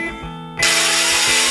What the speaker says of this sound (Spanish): Es el turno de taladro.